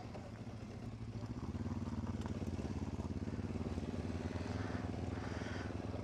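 Motorcycles setting off together for a scenic ride, a steady rumbling engine drone that swells and grows louder after the first second and keeps a continuous, fairly distant pulsing throb.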